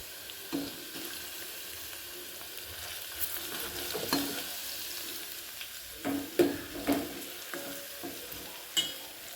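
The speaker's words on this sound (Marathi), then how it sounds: "कांदा छान लाल होईपर्यंत भाजून घ्यायचा" Onions fry in a pan until reddish, with a faint, steady sizzle and occasional quiet scrapes and taps from stirring.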